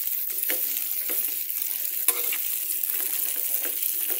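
Okra stewing in margarine over the fire sizzles in a steady, close hiss, with soft pops and one brief metallic tick partway through.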